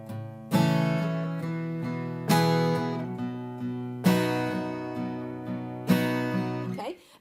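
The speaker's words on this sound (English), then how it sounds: "So the strumming pattern we're going to be working on here is alternating between bass and treble, the low parts of a chord." An acoustic guitar plays an alternating bass-and-strum pattern, with four bright strummed chords spaced evenly and softer bass notes and lighter strums between them, close and clear, ending with a muted stop.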